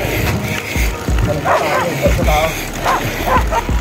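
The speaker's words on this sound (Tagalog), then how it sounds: "Daming aso." Several dogs bark in short bursts amid background chatter and outdoor noise, some yips sounding nearby.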